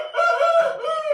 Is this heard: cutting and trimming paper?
no